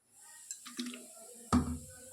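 Water is added to a pot of milk that has been soured with vinegar to curdle it. A few soft drips lead into one brief, close splash near the end.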